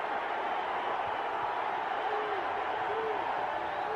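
Boxing arena crowd during a Pernell Whitaker fight, a steady roar of cheering and whoops from a large audience, fairly distant and continuous with some talk mixed in.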